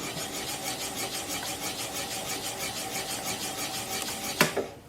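A gouge cuts through a wooden bowl spinning on a lathe, giving a steady close rasping scrape over the motor's hum, ending with a couple of sharp knocks.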